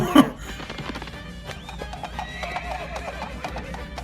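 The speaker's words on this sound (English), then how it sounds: "And a horse." A cartoon horse whinnies loudly right at the start, then hooves clip-clop at a steady pace beneath a busy, layered cartoon soundtrack.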